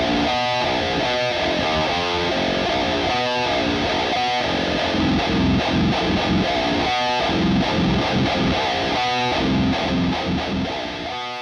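A heavily distorted guitar tone from a Positive Grid BIAS X amp simulator chugs in tight, syncopated palm-muted bursts, loud and dense, with short gaps between riffs, and no one talks over it.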